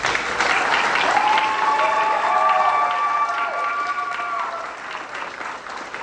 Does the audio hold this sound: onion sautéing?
no